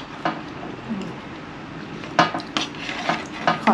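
A spoon clinks and scrapes against a dish during a meal of seared beef and tripe salad, with several sharp, close taps scattered irregularly over quiet room noise.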